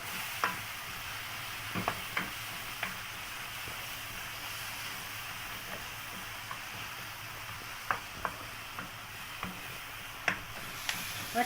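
Half a kilo of meat frying in a pan with softened onions, a steady sizzle broken by repeated clicks and scrapes of stirring, close by and free of speech.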